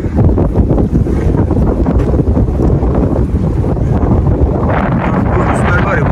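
Strong wind buffets the microphone in a continuous loud roar across open sheep pasture, steady throughout with a brief lull and rising gust near the end.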